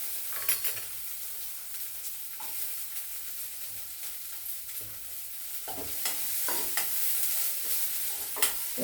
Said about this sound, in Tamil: வெங்காயத்தை நல்லா வதக்கிக்கணும்.